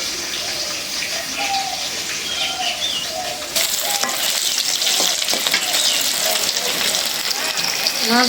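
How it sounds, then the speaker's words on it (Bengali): Fish fries in a kadai (wok) with a loud, dense sizzle and crackle that grows stronger partway through, while someone speaks over the frying. "মাছ এভাবে কড়াই ভিতরে ভাজতে গেলে দোল খাইলে ভালো লাগে মাছ"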